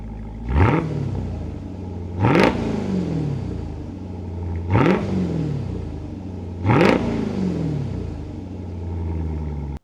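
A 2025 Dodge Durango SRT Hellcat Hammerhead's supercharged engine idles with a deep rumble and is blipped four times, each rev a sharp, loud surge that quickly falls back to a burbling idle, heard close and without talk.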